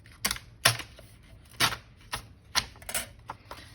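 Paper torn along a tear ruler for a collage, a series of short, sharp ripping bursts repeated at uneven intervals, close and clear with no talking.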